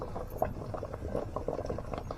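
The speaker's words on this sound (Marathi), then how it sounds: "टोप ठेवला आहे पाणी उकळत ठेवलं आहे" Water bubbles at a steady rolling boil in a pot, a continuous close burble of popping bubbles with no voices.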